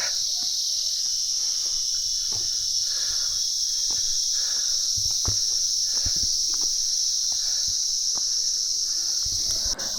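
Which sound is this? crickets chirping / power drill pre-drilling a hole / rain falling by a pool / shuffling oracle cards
crickets chirping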